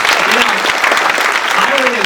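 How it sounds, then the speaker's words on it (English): An audience at an annual dinner gala breaks into strong, continuous applause, a dense, even patter of many hands clapping throughout. "I want to give them a big round of applause."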